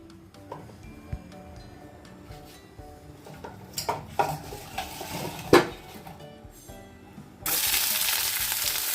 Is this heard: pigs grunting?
no